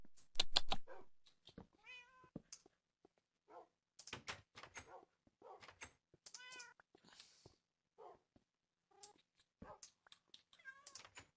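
Repeated cat meows in the video game Minecraft, a string of short, fairly close mews scattered across the span with brief gaps, opening with a louder burst, no talk over them.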